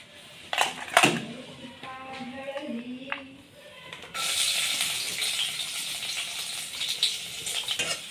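Garlic frying in oil in a home kitchen while cooking a vegetable dish, a steady close sizzle that swells partway through after some clinks and stirring sounds, with a faint voice early on.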